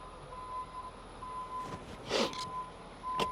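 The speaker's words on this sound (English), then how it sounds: "And here's the beeper. Beeper beeping." A 2021 Ford F-550 rollback truck's reversing beeper sounds a few times over a low idling engine hum, with a steady electronic tone running underneath.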